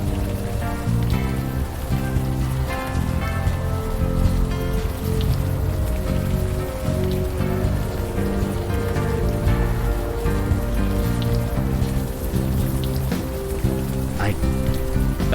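Steady rain falls in the video game Unavowed, a continuous wash of drops over a city street that stays loud and even throughout, layered with a sustained musical score beneath.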